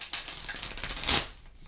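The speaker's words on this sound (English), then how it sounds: "The cards kind of stick together, so I've been putting a lot of extra time in shuffling these." Deck of tarot cards with a rose-petal finish being shuffled by hand, a brief close riffling patter of cards that builds and then stops.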